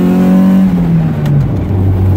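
Mazda Miata convertible engine revving hard under acceleration with the roof off, loud and close, its pitch climbing then dropping at a gear change and climbing again, with steady wind and road roar.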